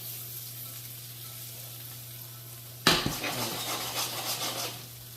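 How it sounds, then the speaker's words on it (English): Broccoli coated in garlic butter sizzles in a hot pan, with a sudden burst of frying as the food is stirred in, followed by steady crackling and scraping over a constant low kitchen hum. "just coat the broccoli in the butter and the garlic"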